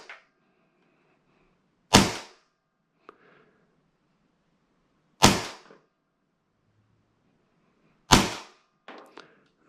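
A gas-powered airsoft gun fires single BBs through a chronograph, three sharp, loud cracks spaced a few seconds apart, each followed by brief faint mechanical clicks.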